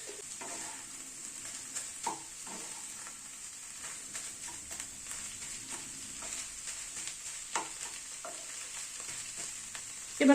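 Spice mix with salt frying in a pan, a soft continuous sizzle with scattered scraping and stirring taps, fairly quiet and close, no voices.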